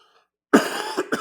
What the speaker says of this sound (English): Still giving me a little lingering cold there. A little cough.